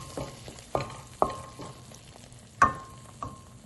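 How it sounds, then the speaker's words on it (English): Tomatoes cook in a pan over low to medium heat, with a soft sizzle and a few sharp scrapes of stirring at irregular intervals. No one speaks. "the heat is on between low and medium to give enough time for our tomatoes to cook through"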